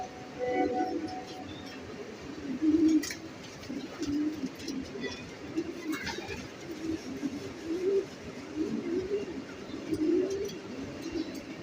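Racing pigeons at a loft make soft, repeated cooing calls. The calls are faint and rise and fall in short rounded phrases, with some light background noise.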